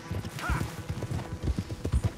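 Horse hooves clip-clop at a steady trotting rhythm in the Red Dead Redemption II video game, close and distinct, with a brief snort or whinny early on and a low rumble beneath.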